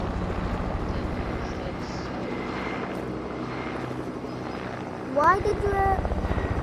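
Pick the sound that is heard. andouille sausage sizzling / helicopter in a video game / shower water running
helicopter in a video game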